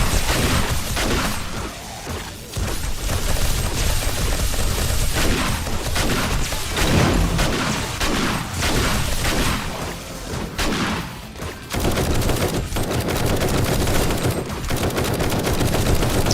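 The player's gun fires in a zombie-horde video game running the End Z mod, with loud, close, rapid automatic bursts repeating steadily amid crashes and thuds, broken by a brief pause or two.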